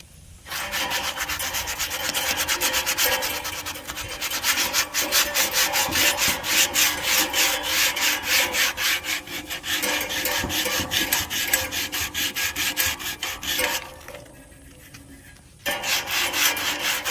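A scrap piece of yellow vinyl is sanded down by hand, making continuous close rasping strokes in a brisk rhythm, with a short pause near the end before the scrubbing resumes; no voices.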